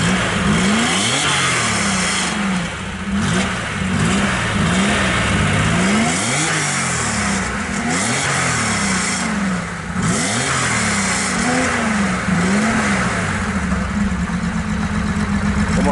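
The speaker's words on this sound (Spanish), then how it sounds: "¿Nos puedes arrancar el vehículo? ¿Nos metes algún acelerón a ver cómo suena el coche?" A 1976 Porsche 914 Targa engine runs loud and close, revving repeatedly in rhythmic surges over a steady idle, with no talk.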